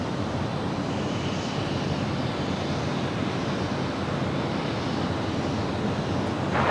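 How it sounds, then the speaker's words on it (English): A Southwest Airlines Boeing 737-700 arriving at Los Angeles International Airport gives off a steady, fairly loud jet engine roar that stays constant throughout, with no voices over it. "That is Southwest Airlines for 493 coming in from Phoenix, Arizona."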